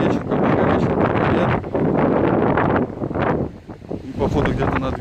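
Cool wind gusts on a Black Sea beach at Vityazevo buffet the microphone in loud, rumbling bursts that rise and fall, with a brief lull before picking up again.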